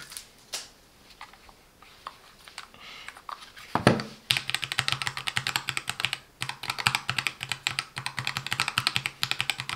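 A MelGeek MojoPad mechanical numpad with a transparent plastic case and a silicone- and poron-dampened plate is typed on up close: a few scattered clicks, then a dense, quick run of keystrokes.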